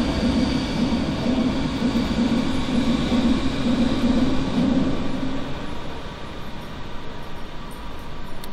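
Metro and tram trains pass in Berlin with a loud, continuous rolling rumble and rattle close by. The noise eases somewhat toward the end, and no one speaks.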